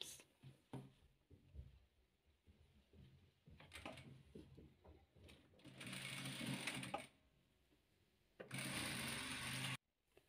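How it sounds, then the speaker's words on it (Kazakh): Sewing machine stitching rows of a patchwork quilt, close and fairly quiet, running in short bursts and then longer steady runs separated by pauses. "Енді осы тігіп алған қатарымызды мына алғашқы қатарға қосып тігіп тастаймыз."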